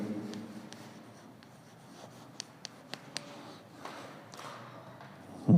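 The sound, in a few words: teacher writing on a board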